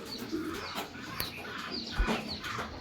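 Racing pigeons coo softly outdoors amid steady background noise, with a few fluttery calls scattered through.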